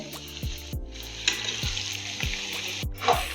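Grated carrots for carrot halwa fry and are stirred in a pan, with a soft sizzle broken by repeated scraping knocks of the spoon against the metal, close and fairly quiet.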